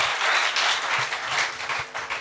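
A church congregation at a Friday service applauds the Lord, giving a steady burst of many hands clapping together at close range, loud and continuous with no voices over it.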